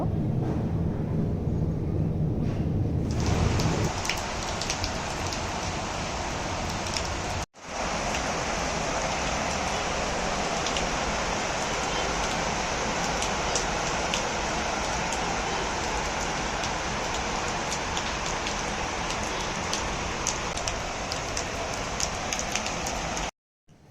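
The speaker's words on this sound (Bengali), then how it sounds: "বাহিরে যেহেতু বৃষ্টি হচ্ছে" Rain falls outside in a dense, steady hiss, with a brief dropout partway through and no distinct rumble standing out.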